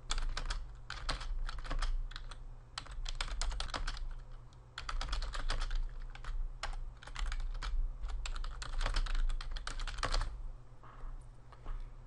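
Text is typed on a computer keyboard in steady bursts of quick, close key clicks with short pauses between them, over a faint low hum.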